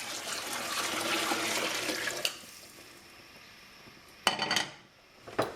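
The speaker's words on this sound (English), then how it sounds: "I'm going to put in 6 cups of beef bouillon." Beef bouillon poured from a container into a soup pot, a steady close splashing stream for about two seconds, followed by a few clinks of the container.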